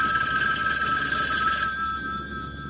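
A spy's shoe phone rings with a steady, continuous telephone bell tone, loud and close, with no voices over it.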